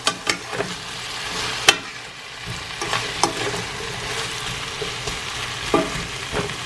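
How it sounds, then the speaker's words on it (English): Tomato fries in a pan with a steady sizzle, while sharp scraping strokes of stirring land every second or so, close up and with no voices. "I threw in the tomato. If you don't like tomato, you don't have to cook it. You don't have to throw it in there, but just make sure you keep stirring."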